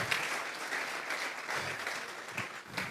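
A congregation at a church service applauds, a continuous crowd clapping that swells and ebbs a little, moderately distant, with no talking.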